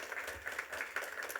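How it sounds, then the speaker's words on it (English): Audience at a professional development conference keynote clapping for sponsors, a brief burst of dense, moderately distant applause. "Give them a round of applause."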